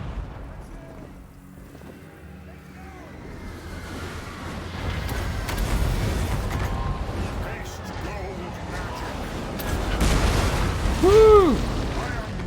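A Hellstorm rocket battery fires in the Total War Warhammer 2 video game, with rumbling booms and explosions that build and roll on over a battle din while someone talks over them.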